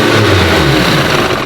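A Mitsubishi Lancer Evolution VIII engine revs steadily and loudly at close range on a dyno, holding a high, sustained drone with no pauses and no voices.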